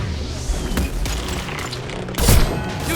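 Gunfire in the video game Mass Effect 2 cracks over a dense, noisy battle background, with a louder burst of shots and impacts near the end.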